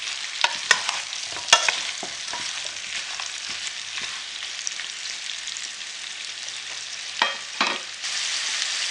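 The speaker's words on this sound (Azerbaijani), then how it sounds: "5 dəqiqə soğanla birlikdə qızardıram." Continuous crackling sizzle of pumpkin and onion frying in a pan, with occasional scrapes and clicks from stirring.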